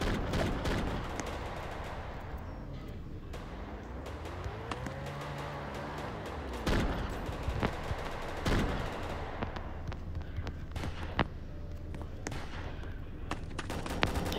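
A fast-firing silenced AR-15-style rifle in the ALF turf game, rapid muffled shots in quick bursts, fairly quiet, with game noise around them.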